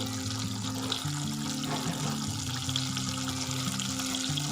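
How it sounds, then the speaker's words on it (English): Butter melting and bubbling in a pan for budget mac and cheese, a steady close crackle and sizzle that carries on evenly with faint low music underneath. "you can see the butter has now melted and is bubbling nicely"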